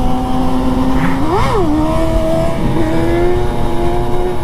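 A Yamaha R6 sport motorcycle roars past, its high-revving engine note swelling and bending in pitch as it goes by, set against a steady rumble of other engine noise.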